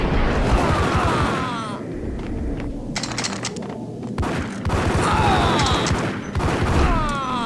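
Gunfire in the video game Max Payne: loud, dense bursts of rapid shots and booms come in clusters with brief lulls between volleys, and voices are faintly mixed in.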